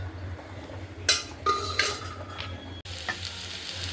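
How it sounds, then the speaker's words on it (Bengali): Food fries in a pan with a soft continuous sizzle, while a metal spatula stirs and scrapes, giving several clinks and scrapes close by. "দেখো বন্ধুরা কত সুন্দরভাবে ভাজা করছে"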